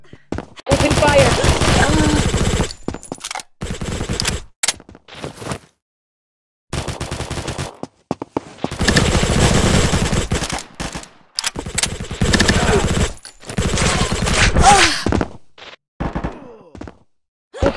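Rapid machine gun bursts from Combat Master, loud and close, firing in several long volleys separated by short silent gaps.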